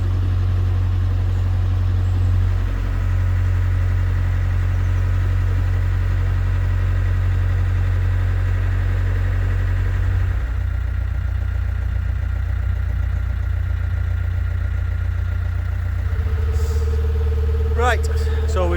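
Diesel engine of the narrowboat Lady Brian idling steadily with a low, even rumble throughout, some background noise and a brief clatter near the end.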